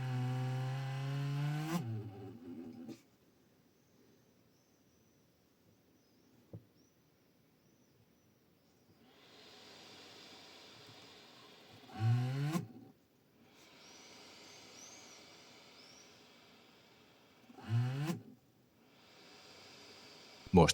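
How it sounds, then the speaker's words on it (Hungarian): A Dell Inspiron 3584 laptop's cooling fan runs under load with a fault, giving a strange rattling whir in long stretches broken by louder, rough scraping bursts. "hogy terhelés alatt a hűtőventilátor elképesztően furcsa, kerregő hangot ad ki"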